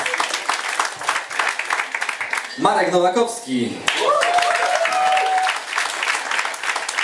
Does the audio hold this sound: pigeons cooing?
no